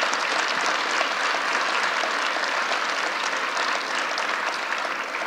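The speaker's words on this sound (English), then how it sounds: "I want to applaud them." Audience applause at a gun protection bill signing with the governor and the House Speaker present, thick and loud with even clapping throughout, no voices over it.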